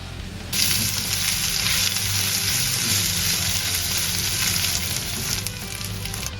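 Crab meat sizzling with onion in a hot pan, a steady loud frying hiss that kicks in abruptly and carries on throughout, alone without talk.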